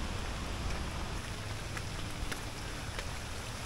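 Rain falls steadily and evenly near a waterfall in the cool highlands of Bali, a soft continuous hiss with no voices.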